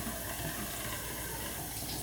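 Water splashes steadily from a running tap as a face is rinsed at a sink, a continuous close hiss and patter that stays even throughout.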